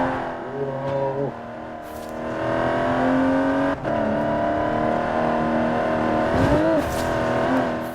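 An SUV's engine revving in Forza Horizon 4 with an automatic gearbox: a loud, close engine note that rises and falls across the rev range, with a brief dip like a gear change. No one talks.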